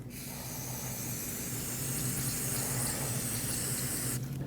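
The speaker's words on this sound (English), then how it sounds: "Once you're done cleaning, rinse this off with brake parts cleaner." Brake parts cleaner sprays steadily from an aerosol can onto front brake components of a 2020-2027 Toyota Corolla, a continuous close hiss lasting several seconds before cutting off abruptly.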